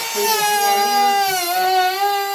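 A Ryobi P601 trim router with a plexiglass base is switched on and spins up toward 29,000 RPM, giving a loud, close, steady high motor whine with a slight dip and recovery in pitch.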